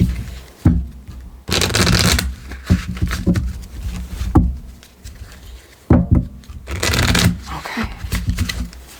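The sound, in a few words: shuffling a deck of cards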